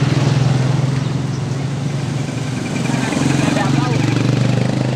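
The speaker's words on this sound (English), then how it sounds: "Traffic." Continuous street traffic in the Philippines with idling and passing car and motorcycle engines, a steady low droning hum with tonal rumble, close and fairly loud.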